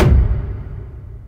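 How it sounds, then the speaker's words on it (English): A cinematic whoosh hit soaked in layered reverbs strikes loud and close at once, then decays into a low, dark, rumbling tail over about a second, heard alone. "So if we listen to the sound with the reverbs"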